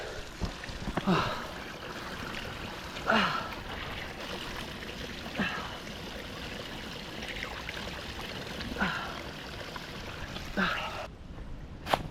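Mountain stream and waterfall in Japan flowing steadily as a broad, continuous rush of water, with a few brief voice-like sounds appearing now and then.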